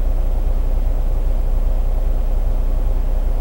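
A pickup truck that hauls an RV sits idling, giving a steady, loud low rumble with a broadband hiss and no change in level throughout.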